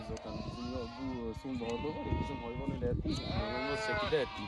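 A flock of Akkaraman sheep bleats repeatedly on the way to Mount Ağrı, with overlapping calls near and far forming a continuous chorus; people talk amid the flock.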